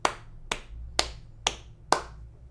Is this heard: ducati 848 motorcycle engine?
no